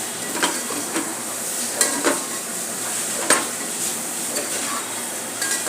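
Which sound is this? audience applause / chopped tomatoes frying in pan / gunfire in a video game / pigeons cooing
chopped tomatoes frying in pan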